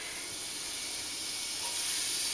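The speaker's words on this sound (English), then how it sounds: "you hear that sizzle?" Ground beef sizzling in a hot pan for a sweet potato, black bean and beef chili, a steady bright hiss that holds constant and swells slightly toward the end, heard alone without speech.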